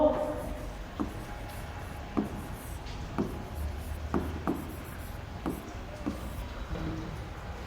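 Pen strokes on paper as notes are written by hand, a series of soft, close scratches and taps at irregular intervals, quiet and without speech.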